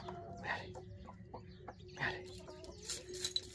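Chickens on a farm pecking at corn inside a fenced enclosure give soft, scattered clucks and short calls, fairly quiet, with light shuffling noises between them.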